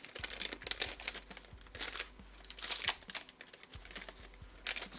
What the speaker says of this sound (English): Excuse me if the packaging is loud